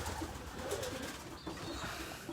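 Racing pigeons coo softly in a race loft, low murmuring calls repeating over a faint, steady background, with no voices.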